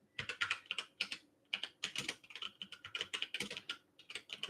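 Computer keyboard typing during a Linux Q&A session, a quick, close, continuous run of crisp keystrokes in uneven bursts with no voices.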